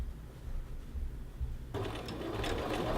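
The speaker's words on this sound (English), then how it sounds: "You sew it from the face of the garment because it does show on the face of the garment" A low rumble gives way after about two seconds to a sewing machine starting up and stitching steadily along a men's shirt collar band, edge stitching on the face of the garment without backstitching.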